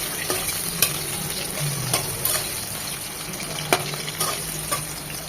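Potato pieces fry in a pan for a vegetarian winter vegetable dish, a close steady sizzle with repeated sharp scrapes and taps of a spatula stirring, no voices.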